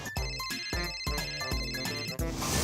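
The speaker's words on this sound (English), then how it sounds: "My phone's ringing." A phone rings with a bright, repeating electronic ringtone, several evenly spaced bursts, loud and close with no talk over it.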